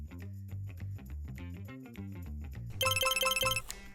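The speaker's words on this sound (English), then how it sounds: "I'm getting a phone call." A phone rings with a bright electronic ringtone that chimes in rapid repeating bursts near the end, cutting in after a stretch of bouncy background music.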